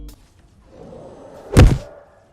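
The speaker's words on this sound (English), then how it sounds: "That was the hardest fall I have ever seen the Smasher do." A Smasher enemy crashes down hard in Fortnite Save the World, one heavy close thud that peaks and fades within about a second after a quiet lead-in.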